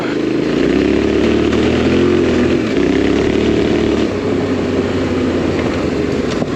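A Yamaha Tenere motorcycle engine with an aftermarket exhaust drones steadily nearby with a deep, throaty exhaust note, rising slightly in pitch and holding at a constant loud level.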